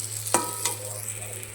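Tomato frying in oil during egg curry cooking, a steady sizzle with two sharp clinks of a spatula near the start, fairly quiet with no talking.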